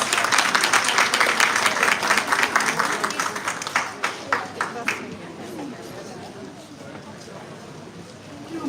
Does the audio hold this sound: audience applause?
yes